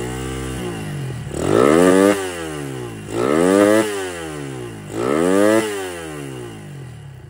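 A motorcycle engine with a freshly tuned carburetor and a changed main jet is revved hard three times in a row. Each loud, close rev climbs quickly to full throttle, holds briefly, then drops back to a rough idle, with no talking over it.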